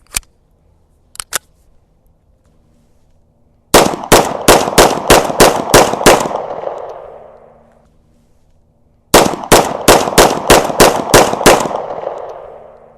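A Swiss P49 SIG P210 pistol fires two quick strings of about seven sharp, loud shots each, evenly spaced with echoing tails, separated by a pause, after a few isolated clicks and a single shot at the start.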